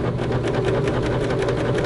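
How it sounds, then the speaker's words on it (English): A serger stitching fabric around an inside curve runs as a fast, steady mechanical whir that stays loud and unbroken throughout, with no talking. "Your serger goes much faster than your sewing machine does, so be careful."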